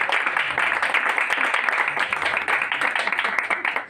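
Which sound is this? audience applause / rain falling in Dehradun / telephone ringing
audience applause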